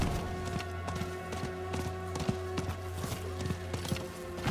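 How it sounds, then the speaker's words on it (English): Horse hooves pound in a steady galloping clip-clop while the rider sprints across the land in Diablo IV, the beats running under continuous game music and ambience. "So happy we got this horse, though."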